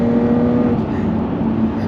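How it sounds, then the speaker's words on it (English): An Audi S4/S5 exhaust fitted with an X-pipe drones with a thin, slightly tinny tone, holding steady and then dipping slightly, close by. "So exhaust, a little bit tinny for my liking."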